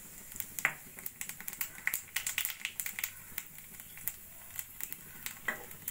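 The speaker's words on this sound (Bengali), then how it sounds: "ওই তেলের মধ্যেই আরেকটু তেল দিয়ে দেবো কালো জিরে ফোড়ন" Black cumin seeds sizzling in hot oil left from frying fish, a close, crackling spatter of rapid irregular pops at low volume, with no talk.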